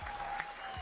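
A crowd at a Halo HCS esports tournament in Salt Lake City applauds in a brief, steady burst of clapping, moderately loud and not far off.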